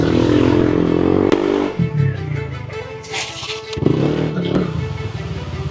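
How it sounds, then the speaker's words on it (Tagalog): The engine of a Yamaha Aerox scooter with a CVT, tested during a ride, rises and falls as it revs and accelerates. A few sharp clatters and brief dips break up the close, continuous drone. "Testing muna natin motor ni sir."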